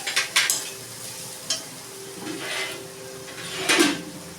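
Ground cumin and Kashmiri chilli fry in a pan as a spoon stirs them, giving a soft sizzle under a few scraping and clinking strokes, close and alone.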